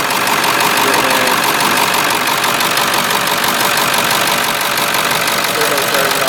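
A 1995 Ford F-250 4x4 diesel pickup idles loudly and steadily nearby, its dense, continuous engine rumble and clatter holding an even level throughout with no pauses.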